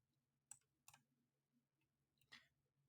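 A computer mouse clicks a few times in a quiet room while filtering entries in a crypto tracking web platform, with sparse, light, close ticks and a louder thump at the very end.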